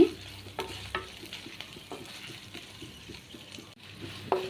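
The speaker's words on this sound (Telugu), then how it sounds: "ఎండుమిరపకాయలు, పచ్చిమిరపకాయలు కొంచెం ఎర్రగా వేయించేసుకోండి" Dried red chillies and green chillies frying in a pan, a soft sizzle with intermittent stirring scrapes and clinks, close and fairly quiet, with no talking.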